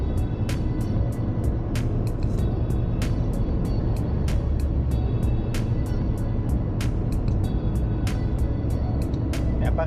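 A trail motorcycle fitted with an electronic throttle box runs its engine in a loud, steady drone that holds close and unbroken, with regular sharp ticks repeating over it.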